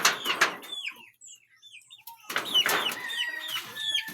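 Captive-kept wild junglefowl (labuyo) give soft clucks and chirps, with a burst of fowl calling at the start and again later, close by with no talk.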